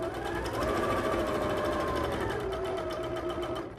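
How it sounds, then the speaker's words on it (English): A sewing machine stitches a quarter-inch seam along the side of a quilt block, a fast steady close whir with rapid needle clatter running continuously. "Then I'm going to sew a 1/4 inch down the side"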